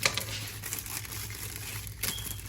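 Scissors cut a crinkling plastic bag, with steady rustling and a louder crackle near the end; no talking.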